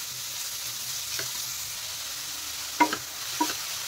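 Paneer spring roll filling stir-fried in a pan over a high flame: a steady low sizzle with a few sharp scrapes and knocks of a spatula near the end.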